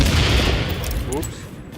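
Loud gunfire bursts in the video game The Division as a player shoots at a grenade, a dense crackling volley that fades quickly, with a voice talking over it.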